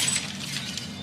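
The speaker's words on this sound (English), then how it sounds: "Now a stylish glass coffee table." Stylish glass coffee table smashing as a radio ad sound effect: a brief, loud burst of shattering glass with bright tinkling shards and clinking debris, heard alone.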